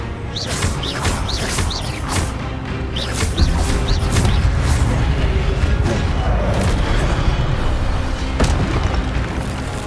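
Spell-casting combat in Hogwarts Legacy, with an Incendio fire spell among the blasts: a dense, continuous roar of booming impacts and crackling bursts, with short swishing whooshes near the start, loud and sustained throughout.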